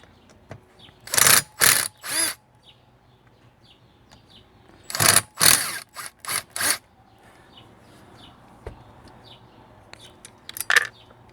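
Screws being worked loose from the insulator block of an Echo SRM-225i string trimmer during a rebuild, heard as two clusters of sharp scraping, ratcheting bursts with quiet handling between them, fairly close and with no talking.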